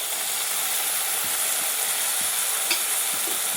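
Idli manchurian sauces, soy, red chilli and tomato, frying in a pan, with a steady broadband sizzle and soft scraping stir strokes throughout, one sharper clink near the end, no voices.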